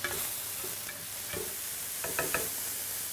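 Mushrooms and bacon frying in a pan give a steady soft sizzle, with a few light stirring scrapes and taps near the end, close and fairly quiet.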